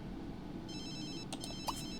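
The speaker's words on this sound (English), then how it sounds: "I really need to mute this phone, it's so irritating." A mobile phone ringing in The Sims 3 video game, an electronic ringtone starting partway in with repeated bright tonal trills over a low background hum, fairly faint.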